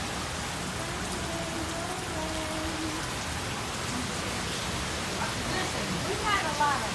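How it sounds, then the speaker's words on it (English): Steady heavy rain from a major thunderstorm in Kearny, New Jersey pours down as a continuous close hiss of drops on surfaces, with no talk heard. "Major thunderstorm."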